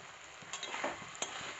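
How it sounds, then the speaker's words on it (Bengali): Ghee added to a village-style drumstick flower curry, with a soft continuous sizzle and a few light spoon scrapes and taps as it is stirred, fairly quiet and close, no voices. "এবার আমি একটু ঘি দিয়ে দিচ্ছি, অল্প একটু ঘি দিয়ে দিলাম।"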